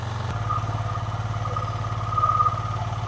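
A Yamaha Aerox scooter engine runs at a steady idle, close by, with a rhythmic low putter and a slight rise in revs near the end.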